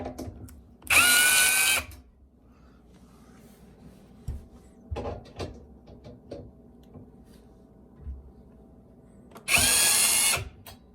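A power drill with a Phillips bit removes old drawer hardware, running in two loud whirring bursts of about a second each, well apart, with quiet handling clicks and taps in between.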